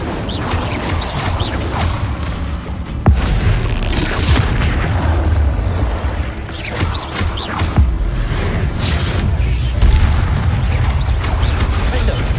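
Spell blasts from Confringo and Incendio in the Hogwarts Legacy video game burst again and again as loud, dense booms and crackling explosions, with one sharp impact standing out among the steady roar of game effects.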